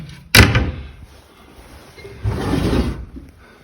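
An old wooden Hoosier cabinet drawer with a loose fit is pulled and pushed, giving a sharp knock followed by a scraping slide, then a second longer rough sliding scrape, close and loud.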